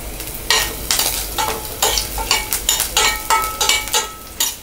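Ginger, green chillies, curry leaves and a dried red chilli sizzle in hot oil in a pan for tempering, with repeated bursts of crackling as a spoon stirs and scrapes, loud and close, no voices.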